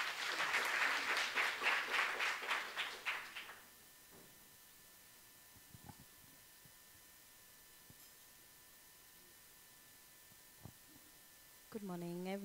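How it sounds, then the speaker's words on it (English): A burst of loud audience applause greets the executive director at the MTN Foundation JA Eswatini Grand Hustler launch, dense clapping for about three and a half seconds before fading to a quiet, humming room and a voice starting to speak. "with a round of applause"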